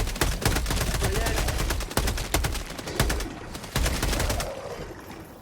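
Machine gun fire in the Helldivers 2 video game rattles in rapid, evenly spaced bursts, loud and close, with a few heavier thumps mixed in and continuing almost without a break.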